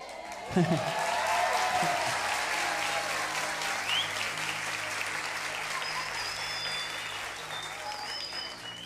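A church congregation applauding warmly for a man, steady dense clapping that sustains for the whole stretch, with a brief voice and some cheering near the start.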